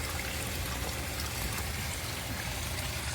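Water spraying from a brass garden hose shut-off valve outdoors, a steady broadband hiss and splash that runs unbroken and fairly loud throughout.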